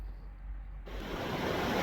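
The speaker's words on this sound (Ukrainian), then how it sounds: "Ну ось починаються такі маленькі водопадики, водоспадики" Small waterfalls along a walking trail at Iguazu, a broad steady rush of falling water that swells after a quieter opening, close and continuous with no voices.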